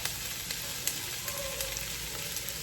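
Steady, crackling sizzle of food frying in a hot pan, with dense popping texture and a few sharper spits, close and fairly loud, no voices.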